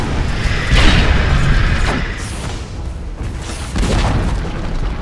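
A tower is destroyed in a Dota-style match, with loud booming crashes and crumbling debris, followed by a second burst a few seconds later.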